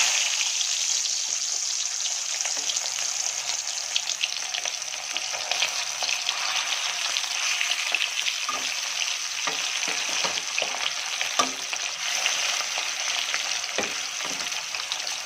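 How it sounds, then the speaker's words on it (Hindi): Turmeric-and-chili-coated fish pieces fry in a hot kadai wok with a steady, bright sizzle throughout, plus occasional soft stirring clicks, close and continuous, with no voices. "माछटा को फ्राए कर दूची कड़ईटा गरम हो गला"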